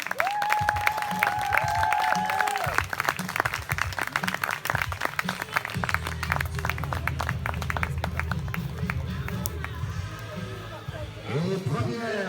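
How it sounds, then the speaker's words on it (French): Applause from a crowd at a triathlon awards podium, a steady wash of clapping with a busy crowd murmur, while an announcer speaks over a loudspeaker. "Merci d'applaudir Nathalie Guillet."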